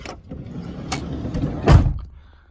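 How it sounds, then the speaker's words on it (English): A Toyota Sienna minivan door slides and shuts with a solid thud near the end, preceded by short rattles and shuffling movement, close and loud. "Let me close the door."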